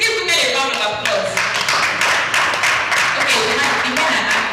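Audience applause at a live business talk, brisk rhythmic clapping from a crowd close by, with voices and cheering mixed in over it.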